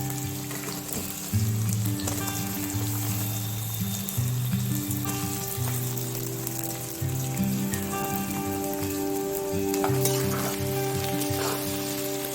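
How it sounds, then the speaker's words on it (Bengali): Onions sizzle steadily in hot oil with bay leaves, dried red chillies, whole garam masala, cumin seeds, crushed garlic and sugar for a Bengali chicken curry, a continuous close frying hiss with steady tonal background music. "পেঁয়াজটা ভালো করে ভেজে নিই।"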